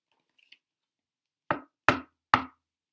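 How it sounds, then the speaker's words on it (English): Three sharp knocks on a door, evenly spaced and fairly loud, following a couple of faint soft taps; nothing else is heard around them. "Knock, knock."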